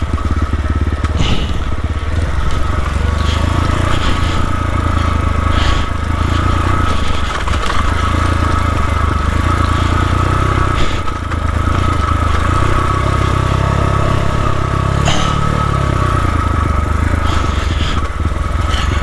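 A dirt bike engine is ridden along a trail in Jintang, China, a loud, close, continuous motor drone that rises and falls with throttle changes for the whole stretch.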